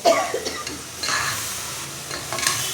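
Greens and seasonings for siru keerai kadayal sautéing and sizzling in a pan while a spatula stirs and scrapes against it, close and continuous with no talking.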